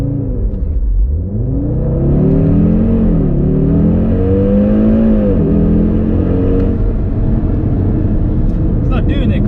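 A 2020 Audi RS3 launches hard and loud, its engine note sweeping upward through several quick gear changes. The roar holds steady near the car and then tapers off.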